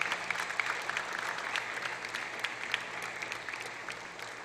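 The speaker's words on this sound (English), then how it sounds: "Can I ask all the student athletes who are here to give a lusty round of applause" An audience at a school sports prize-giving ceremony claps for people standing, producing sustained, fairly faint applause with scattered sharper claps.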